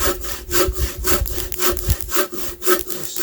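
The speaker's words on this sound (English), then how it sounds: "This stump here is working out great as a sawhorse for sawing this" A handsaw cuts through a tree log resting on a stump in steady back-and-forth strokes, each rasping pass close and clear, with no talking.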